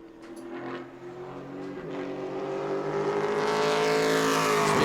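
Pro Late Model race car number 94 lapping the track during qualifying at New Smyrna, its engine drone steady and building louder as it draws nearer, no talk over it.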